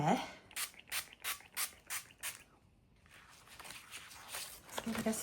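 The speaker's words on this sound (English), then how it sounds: "Let's give it a spray on both sides." A series of about six short, hissing sprays from a spray bottle onto packaging paper in a steady rhythm, followed by softer rustling and a few quieter bursts.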